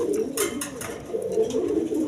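Pigeons bred for eggs and chicks coo in repeated low, throaty rolls, fairly close and loud, with brief higher clicks or flutters mixed in and no talking.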